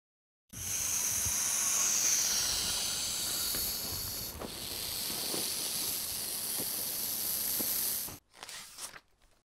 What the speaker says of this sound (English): Snake hissing.